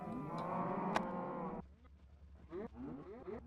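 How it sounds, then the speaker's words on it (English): Cows moo in the Minecraft video game, several drawn-out, overlapping lowing calls heard close up, followed by a choppier, broken run of moos, with no one speaking. "I have so many cows, the sound isn't working properly anymore."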